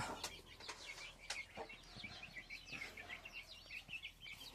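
Guinea fowl clucking and chattering calls, several overlapping, with rhythmic repeated notes against steady outdoor background noise; no talking.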